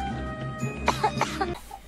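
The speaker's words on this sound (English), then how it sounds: "Put your hand in front of your mouth when you cough" A single person coughs a few times in a short, harsh burst, close and fairly loud over a faint background hum.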